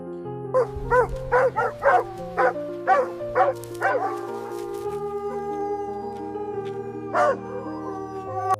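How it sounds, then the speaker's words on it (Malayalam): Several guard dogs bark at night outside a villa in a quick burst of repeated yelps, then the barking thins out to a few scattered calls over a steady low drone. "കാവൽ നായ്ക്കൾ സാധാരണയല്ലാത്ത വിധം ഓരിയിട്ടു അവയുടെ ഭ്രാന്തമായ കുര ഒരു മരണമണി പോലെ മുഴങ്ങി"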